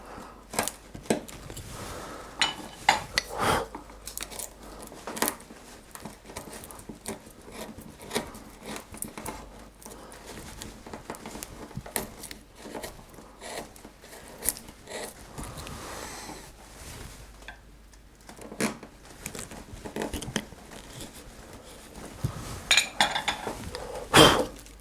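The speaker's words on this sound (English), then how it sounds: "A screw chisel will help you get right into this" A screw chisel carving a tight collar recess in wood for a hanging shirt makes a string of close, short scraping and tapping cuts with uneven rhythm, with some quiet pauses and no talk.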